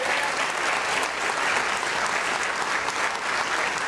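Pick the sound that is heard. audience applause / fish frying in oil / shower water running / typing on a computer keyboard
audience applause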